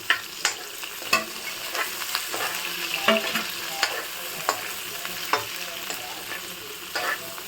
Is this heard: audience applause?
no